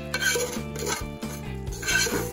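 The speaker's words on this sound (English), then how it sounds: "Let's add the sauteed onions and the spices." Sauteed onions and spices go into a pot of lentil curry with clinking spoon-on-pot scrapes and rubbing over a dense background, close and steady.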